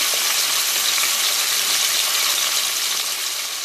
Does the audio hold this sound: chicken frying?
yes